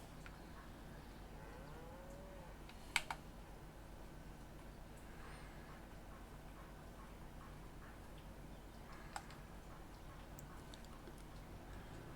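Cattle on a dairy farm in Farming Simulator 25 give a faint, distant moo over a quiet, steady ambient bed, with a few soft ticking clicks.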